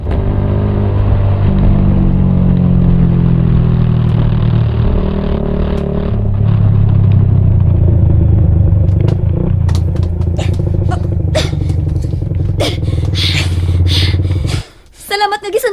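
A motorcycle engine rumbles and revs close by for most of the stretch, loud and continuous, then is joined by sharp clattering knocks and drops away near the end, with people talking over it.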